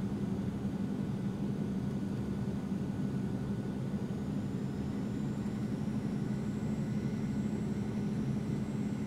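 A light aircraft in the X-Plane 11 flight simulator on landing approach with full flaps, heard as a steady, low engine drone that stays even and unbroken throughout.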